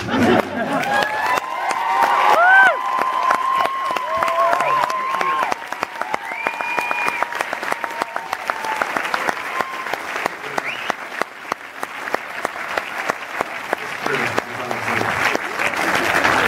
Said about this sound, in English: you may have to applaud thunderously for him to wake the fuck up